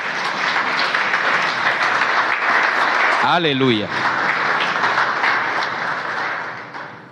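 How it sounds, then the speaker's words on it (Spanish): Church congregation applauding loudly and steadily throughout, with a brief shouted voice in the middle rising above the clapping. "Denle un aplauso al Señor."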